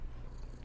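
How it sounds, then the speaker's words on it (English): Cat purring softly and continuously, a low steady rumble close to the microphone, alone without talking. "I don't know if you can hear her purring"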